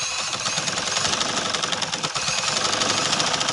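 An electric sewing machine stitches a designer suit, giving a fast, even mechanical chatter that runs continuously at moderate volume throughout.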